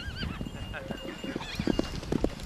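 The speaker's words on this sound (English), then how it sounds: "These people had mastered the skill of horse riding." Horse hooves clip-clop in quick rhythm while a horse neighs loudly and repeatedly nearby, in a dramatized scene of Celtic horse riding; a voice speaks over the sounds.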